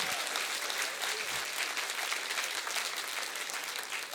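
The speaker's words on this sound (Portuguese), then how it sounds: "louva Jesus com umas palmas fortes" A church congregation claps loudly and continuously, a dense, sustained burst of applause filling the space at full strength from start to end, with a faint voice or two mixed in.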